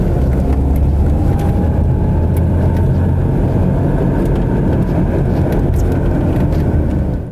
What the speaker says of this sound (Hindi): टायरों के अंदर से रॉरिंग रॉ रॉ रॉ की आवाज़ आएगी